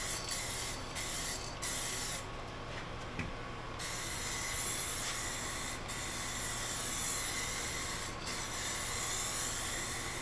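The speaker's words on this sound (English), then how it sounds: "here I'm getting ready to put on the clear coat" Clear coat sprayed onto the car paint of a 2017 VW Tiguan makes a continuous soft hiss with short breaks where the spray stops and restarts, fairly faint and with no talking.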